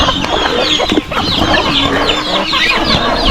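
Several chickens cluck and peck busily nearby, with short overlapping clucks and scratchy feeding sounds over a steady farmyard background.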